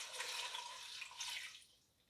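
Chicken broth poured from a container into a pot, a steady splashing liquid stream for about a second and a half that then tapers off and fades.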